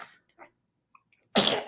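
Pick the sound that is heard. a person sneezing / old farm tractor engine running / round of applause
a person sneezing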